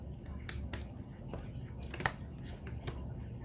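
Tarot cards drawn from a deck during a love reading, giving soft papery flicks and a few sharper snaps, quiet and close with low background hiss.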